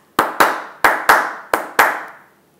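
Anil claps his hands in three quick pairs of sharp, close, loud claps, each pair separated by a short pause, with no other sound around them.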